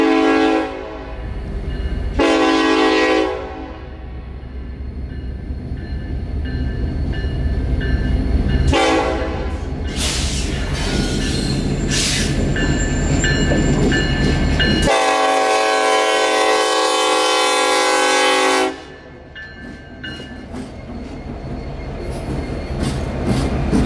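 A Union Pacific SD70ACE and a Norfolk Southern SD60E lead a freight train past a crossing in Apollo Beach, Florida, sounding several long, loud horn blasts over the continuous rumble of the passing train.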